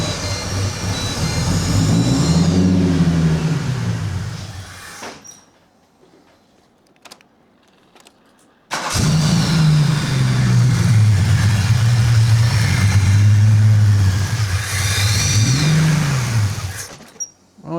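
Car engine after a manual gearbox conversion, running loudly with wavering revs, then cutting out into near silence with a few clicks, restarting with a sudden roar and running again before stalling.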